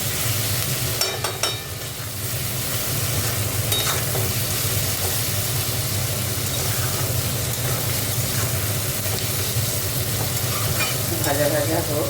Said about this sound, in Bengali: ভাজা ভাজা হোক সবজিগুলো।